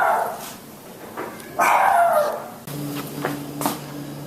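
Freddy, a rescue dog who dislikes kids, lets out a few sharp, angry barks and yips close by, separated by short pauses and mixed with whimpering tones.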